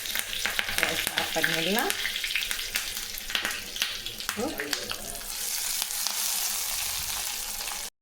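Mustard seeds, dried chilies and curry leaves crackle and sizzle in hot oil for a tempering, a close, steady frying hiss with small pops throughout while a voice talks briefly over it.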